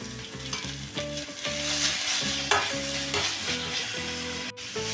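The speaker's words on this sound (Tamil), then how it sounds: "வெங்காயம் வதங்கினதும் நம்ம எடுத்து வச்சுருக்கிற மசாலாவை போட்டுக்கோங்க" Masala hits fried onions in a pan for a wedding-style broad bean side dish, setting off a loud, continuous sizzle alongside background music.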